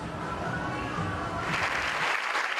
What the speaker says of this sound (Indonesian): Gemuruh tepuk tangan mengiringi penganugerahan Peter Benchley Ocean Award